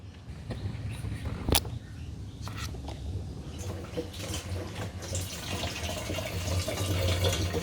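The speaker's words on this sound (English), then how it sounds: "The moment I push this in, I will be powering up the fuel pump." Electric fuel pump of a Range Rover TDV6 pushing diesel through a hose into a container, a steady splashing liquid flow with a few sharp clicks and knocks, gradually getting louder.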